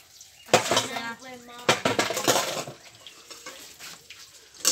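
Dishes and a whisking utensil clatter and scrape while being washed, with sharp clinks of metal against a bowl over faint running water, close and irregular.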